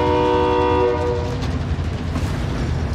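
A train in Call of Duty Warzone sounds a loud, sustained horn for about a second, then its rumble and rattling roll on as it passes close by.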